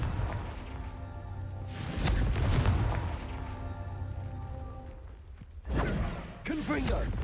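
Confringo fire spell blasts in Hogwarts Legacy, heard as deep booming thuds layered over continuous game music, with a sharper burst near the end.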